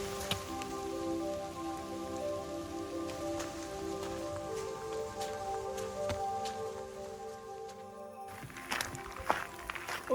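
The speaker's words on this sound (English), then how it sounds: "Rain's dying off a bit, so I'm enjoying that right now." Steady light rain falls on a bog trail near Black Moshannon Lake, a soft continuous patter with occasional louder drops and a few footsteps, faint and close.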